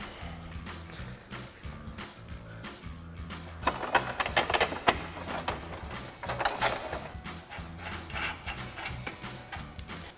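Grille guard being fastened with Allen head bolts, flat washers and flange nuts: a quiet run of ratcheting clicks and metallic ticks, denser in the middle stretch.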